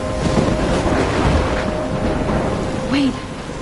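A stormy scene from the video game Life is Strange: loud, steady rain and wind with a heavy rumble of thunder, ending in a brief whooshing gust.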